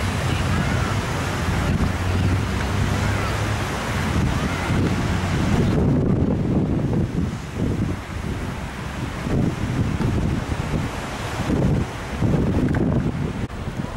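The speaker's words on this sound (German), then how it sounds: "Da ist viel los hier am Strand." Waves and strong wind on a busy beach in Mallorca, a dense steady roar of surf with heavy wind buffeting the microphone throughout.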